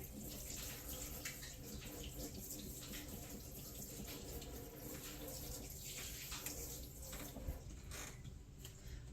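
Tap water running steadily into a sink while a kitchen knife is scrubbed with a brush, a faint continuous rush with light clinks and handling noises.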